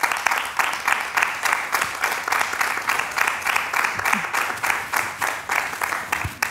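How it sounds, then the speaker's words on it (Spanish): A studio audience applauds a makeup artist guest on a Spanish-language TV show, steady clapping with a light rhythmic pulse throughout, fairly close and full. "Un fuerte aplauso para Lilian Serrano"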